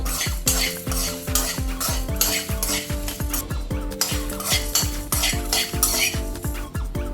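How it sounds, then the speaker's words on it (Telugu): Coriander seeds, cumin, chana dal and dried red chillies dry-roasting in a metal pan, stirred briskly with a spoon that scrapes and clinks against the pan in a steady, repeated rhythm, close and fairly loud. "ధనియాలు జీలకర్ర శనగపప్పు ఎండుమిర్చి అన్నీ వేగిపోయినాయి"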